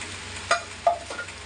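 Egg podimas being stirred as it fries in a pan: a soft sizzle with two or three quick spatula scrapes close by, and no voices.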